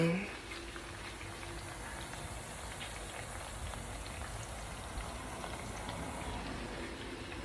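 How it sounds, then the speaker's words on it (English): Plantains frying in a home kitchen pan, giving a steady, faint sizzling crackle that holds evenly throughout without a break. "right now, I'm frying plantains for my boys"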